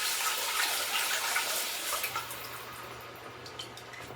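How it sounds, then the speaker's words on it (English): Chicken broth is poured through a fine mesh strainer, giving a soft, steady liquid splash that eases off midway, faint and without talk. "I'm just going to pour it through this fine mesh strainer"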